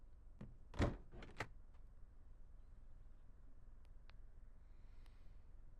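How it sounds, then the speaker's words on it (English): A small aircraft's cabin door is pulled shut by hand after exterior checks, giving a single near thunk followed by a couple of lighter latch clicks, then a quiet cabin hum. "Let's reach over and close this door."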